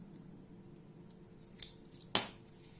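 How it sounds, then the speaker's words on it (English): Scissors snip off small leftover yarn ends on a crocheted flower coaster. One sharp, close cut stands out over a quiet room hum, with a softer snip just before it. "I am cutting the other small yarn ends."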